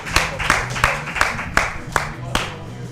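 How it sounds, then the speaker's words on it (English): An audience claps for someone, loose sharp claps arriving in an uneven rhythm roughly every third of a second, fairly close and moderately loud, with some voices behind. "Clap it up for him."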